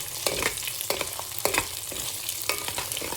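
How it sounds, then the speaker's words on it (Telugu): Eggs seasoned with salt and pepper being stirred in a hot pan, with scraping strokes of a spoon at an uneven rhythm over a steady, close sizzle. "ఇప్పుడు దీన్ని కొంచెం కలుపుకుందాం."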